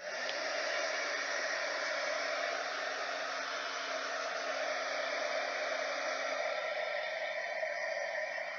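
A hair dryer blows steadily to dry paint on a stencil, a constant close rushing hiss and hum that holds even and unbroken throughout.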